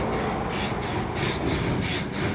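Hand file rasping over the contour of a wooden Strat-style guitar body, a steady close scraping rub with faint rhythmic strokes, heard alone.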